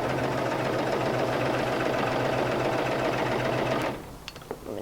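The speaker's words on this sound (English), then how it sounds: "Go ahead and do a couple stitches just to make sure that your thread is catching." A Brother CV3550 cover stitch machine runs in a steady, fast mechanical whir of stitching, loud and close, then stops abruptly near the end, leaving a few faint clicks.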